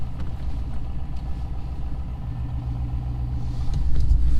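LS-swapped OBS pickup truck engine idling on a cold day, a steady close low rumble that grows slightly louder toward the end, with no talk.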